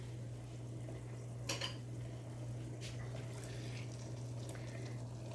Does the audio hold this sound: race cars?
no